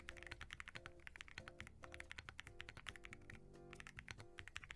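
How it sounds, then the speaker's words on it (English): Fast, steady typing on a premium keyboard with an aluminum case and foam inside: close, crisp keystrokes in quick bursts with short pauses, alone and fairly quiet. "Okay, but surely this keyboard at least sounds incredibly premium, right?"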